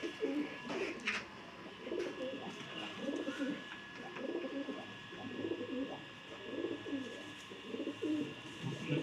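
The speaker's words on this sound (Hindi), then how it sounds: "ये और जोड़ों वाला कबूतर है" Pigeons coo in a steady, rolling rhythm, with repeated throaty phrases close by and faint chirps and a soft background whine beneath.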